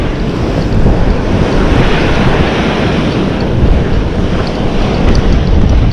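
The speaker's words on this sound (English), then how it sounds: "Those are big waves." Large ocean waves break on the shore in a loud continuous roar of surf, with heavy wind buffeting the microphone throughout.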